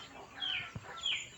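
Chickens inside a covered carton, quiet muffled clucking in two short bursts with a brief low thump between them, faint and close.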